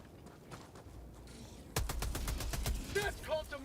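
Gunfire in Helldivers 2, as a quiet lull suddenly breaks into a rapid automatic burst of evenly spaced shots that keeps going, with faint voices in the mix.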